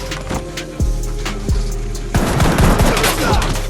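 Gunfire in a film shootout: a few heavy single shots ring out over a tense backdrop, then a dense, rapid volley of automatic fire erupts and keeps crackling loudly to the end.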